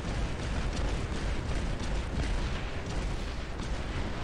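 Bomb blasts in a video game battle, a dense, continuous rumbling roar of overlapping explosions that stays loud and broadband throughout, with no clear breaks and no talking.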